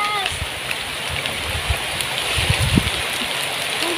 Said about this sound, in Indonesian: Waduh, hujan guys.